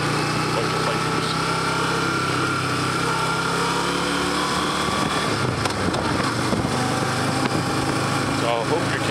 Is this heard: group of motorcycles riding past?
yes